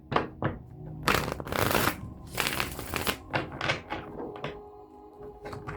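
Tarot cards are shuffled by hand in a series of riffles and slides, with bursts of crisp papery rustling and soft thunks of the deck settling between them, close and alone.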